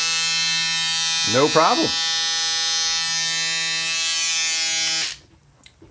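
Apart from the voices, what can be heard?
Remington electric shaver running on bench supply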